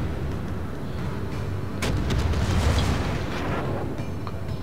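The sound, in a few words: Gascogne battleship secondary guns firing in video game World of Warships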